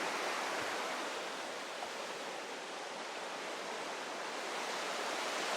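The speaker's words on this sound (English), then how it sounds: "And this is the river actually." A river on the South Coast Track rushes in a steady, dense broadband roar, continuous and fairly loud with no pauses, heard alone without voices.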